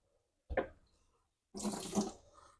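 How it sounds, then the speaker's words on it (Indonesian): A brief splash, then water pours in a short, fairly close stream into a blender holding spices, in an otherwise quiet room. "Tambah air"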